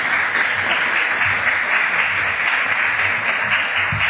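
An audience at a lunchtime reading at Connecticut's Old State House breaks into steady, dense applause to welcome two speakers, a close, continuous patter of many hands clapping throughout.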